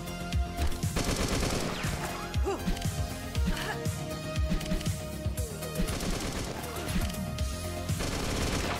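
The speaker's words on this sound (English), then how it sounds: "Who's shooting at me?" Rapid gunfire crackles in the first-person shooter Beyond Sunset, dense bursts of automatic shots and impacts hammering continuously over game music and effects, loud and close.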